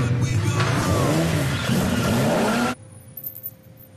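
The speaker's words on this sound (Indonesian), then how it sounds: "Fable pun langsung pergi menuju apartemen Kojima dengan membawa mobil milik Ebihara." A car roars away with loud, sustained tire squealing and engine noise for almost three seconds, then cuts off abruptly to quiet background.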